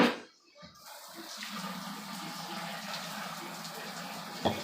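Water poured into a bowl of homemade slime mixture, a steady soft splashing trickle after a brief pause, with faint voices nearby.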